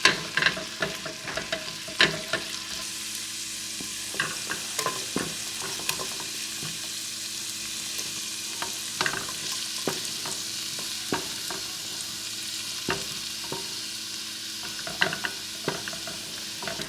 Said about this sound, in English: Stir this around just a little bit.